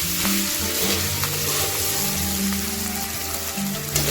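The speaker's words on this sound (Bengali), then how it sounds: "এবার দিয়ে দেব আদা বাটা, দিয়ে ভালো করে নেড়ে নেব" Ginger paste sizzles in hot oil in a pan for a vegetarian Bengali aloo dum, stirred steadily so a close, constant hiss carries repeated scraping strokes.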